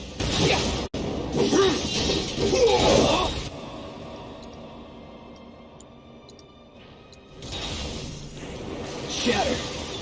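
Glassy shattering bursts and whooshing effects from Final Fantasy VII Remake combat, loud and layered, with a lull of quieter ticking in the middle before the noisy effects return.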